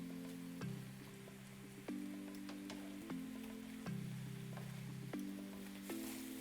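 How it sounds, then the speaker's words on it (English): Shrimp and shirataki noodles sizzle in avocado oil in a pan, a steady crackling hiss with occasional sharp pops and stirring clicks, close and moderately loud with no talking. "we'll add a little more avocado oil, and then we'll add the shrimp"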